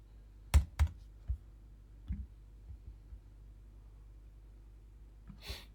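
Computer keyboard keys pressed during a digital art lesson: a few sharp clicks near the start, then scattered softer taps, close and quiet, with one louder crisp click at the end.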